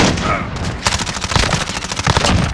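Enemy gunfire in Call of Duty Modern Warfare 2 multiplayer, a loud rapid fusillade of sharp automatic shots in quick bursts after a brief lull, with crackling echoes and a faint boom mixed in.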